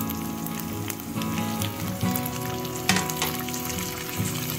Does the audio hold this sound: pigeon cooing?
no